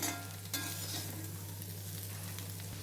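Taro root sizzling in a pan with masala powder while being stirred, a close, continuous frying crackle with a sharp scrape of the spoon near the start and a low steady hum underneath.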